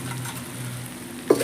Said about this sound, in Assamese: মাছ কেইপিচ একেলগে ভাজি চাব